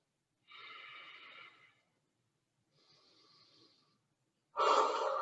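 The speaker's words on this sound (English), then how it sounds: "and take a breath." Deep breaths during a yoga session over video call, a long slow inhale, a quieter second breath after a pause, then a strong audible exhale, close and alone.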